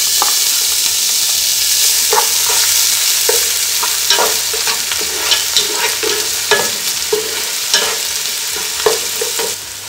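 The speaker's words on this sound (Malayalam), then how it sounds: "ഇഞ്ചി വെളുത്തുള്ളി അരിഞ്ഞത് ഒന്ന് വഴറ്റണം" Chopped ginger and garlic sizzle steadily in coconut oil in a pan for a Kerala-style chicken biryani, with frequent scraping and tapping of a spoon stirring throughout, close and fairly loud, with no voices.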